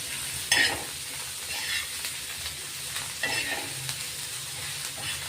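Chopped coriander and tomato sautéing in hot oil in a pan, a steady sizzle with scraping spoon strokes near the start and again around the middle; no one speaks.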